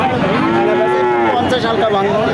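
A cow lets out a single loud, drawn-out moo close by at the Saat Mile cattle market, deep and wavering, over a constant background murmur of the crowd.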